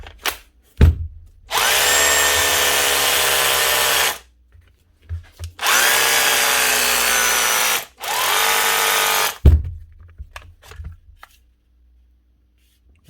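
A repaired Makita SDS drill runs in three loud bursts of several seconds each, its motor whining up to speed and winding down between runs, with clicks and handling noise in the gaps.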